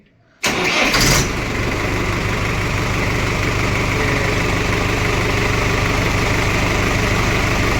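A Mahindra 575 DI XP Plus tractor engine cranks and catches with a loud burst, then settles into a steady, rumbling idle that continues unchanged.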